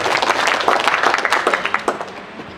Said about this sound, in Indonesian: Sekali lagi tepuk tangan untuk SMK PGRI 2 Palembang